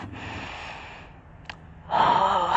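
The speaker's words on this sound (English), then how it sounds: "Take one full breath." A deep yoga breath during a gentle outdoor flow in a park, a long soft inhale, a brief pause, then a stronger, breathier exhale close to the mic, with no talking.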